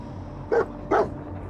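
Dogmeat, the dog companion in Fallout 4, gives two short, close barks about half a second apart over a low, steady game background hum.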